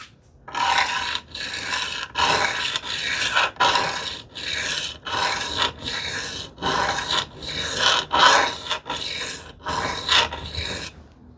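A Stanley 78 plane iron bevel is sharpened freehand on a stone, with about fourteen rhythmic rasping back-and-forth strokes, close and fairly loud, alone without talk.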